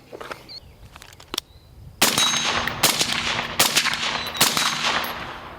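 Rifle shots ring a 10-inch steel gong target 100 yards away, producing a few sharp cracks, each followed by a bright metallic ping. Quieter clicks and handling noises come first, then roughly four shots in fairly quick succession.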